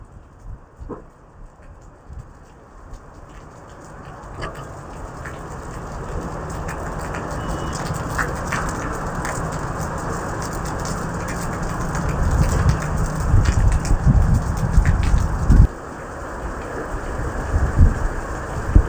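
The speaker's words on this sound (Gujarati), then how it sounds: "વરસાદ વધી ગયો છે પહેલાં કરતાં પવન સાથે જોઈ શકો છો" Steady unseasonal rain in Gujarat hisses and patters, growing heavier and louder over time, with gusts of wind swelling through the downpour.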